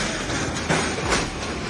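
A train rumbles past a crossing where a Tesla sits on the tracks after a self-driving fault, a steady loud roar with faint clanking over a short stretch.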